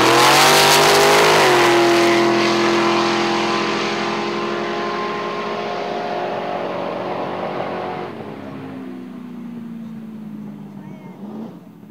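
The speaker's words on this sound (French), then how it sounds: "Dès que le moteur est démarré, on se concentre à faire son burn" A dragster engine on a drag strip roars loudly and close at first, then the strong harmonic drone slowly sinks in pitch and fades as the revs fall away.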